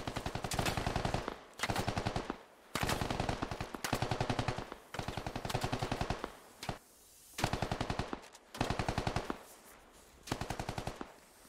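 Repeated bursts of automatic gunfire ring out in the SquadOps video game as a fighter is shot at from a staircase, with rapid loud rounds in about ten short volleys separated by brief pauses.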